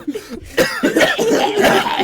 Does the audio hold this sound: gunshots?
no